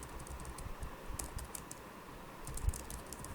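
Typing on a computer keyboard while writing a file on an AWS EC2 server, a quick irregular run of close key clicks, with a few sharper taps standing out, and no voices.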